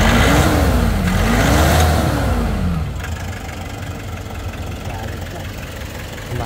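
A Nissan NV350 van's engine, recovering from a lockmode fault that kept it from starting, rises and falls in revs, then settles into a steady idle; a voice speaks over it.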